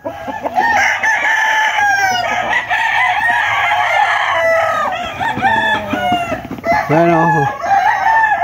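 Young roosters (stags) crowing at a Filipino poultry yard, with several overlapping loud cock-a-doodle-doo calls close by and clucks between them, while someone speaks briefly.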